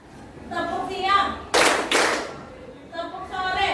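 Rhythmic clapping game in a junior high school classroom: a burst of sharp, loud hand claps in the middle, framed by a voice chanting before and after.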